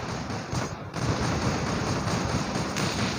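Gunfire in the War Robots video game, dense rapid bursts of shooting that roar continuously and loudly throughout, with no speech.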